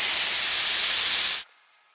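Air rushes out of a 4WD tyre with its Schrader valve removed in a loud, harsh, steady hiss that cuts off abruptly after about a second and a half, leaving near silence.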